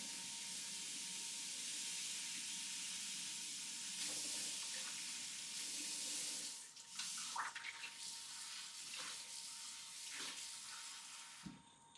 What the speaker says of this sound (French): Et 3 cuillères à soupe d'eau tiède, d'accord? Donc l'eau tiède, regarde. L'eau du robinet.